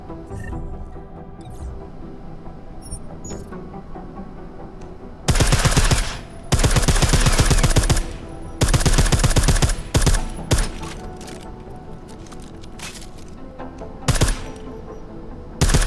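Silenced gunfire in Deus Ex: Mankind Divided: after a quiet stretch, several bursts of rapid suppressed shots come in clusters, followed by a few isolated single shots.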